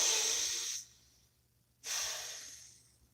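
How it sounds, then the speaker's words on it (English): A person takes a deep, slow breath: a long airy exhale of about a second, a short pause, then another long breathy rush of air, close and fairly loud, with no talking. "Please take a nice deep breath."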